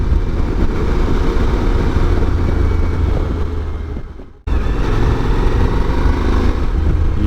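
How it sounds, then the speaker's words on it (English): A Suzuki V-Strom 1000 motorcycle accelerates in fifth gear with a loud, steady engine roar and wind rush that drops briefly, then resumes at full strength. "you twist the throttle,"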